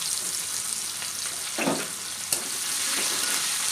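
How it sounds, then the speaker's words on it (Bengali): Chopped onion sizzles steadily in hot oil with cardamom, cloves, cinnamon pieces and a bay leaf, giving a loud, even hiss broken by one brief stirring scrape partway through. "পেঁয়াজটাকে হালকা লাল লাল করে ভেজে নেব"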